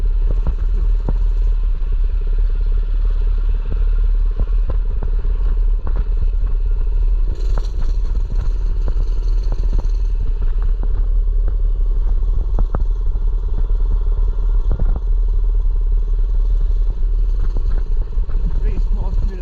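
A mini bike engine runs continuously with a low rumbling drone and light clatter, steady and close throughout, while a rider talks over it at times.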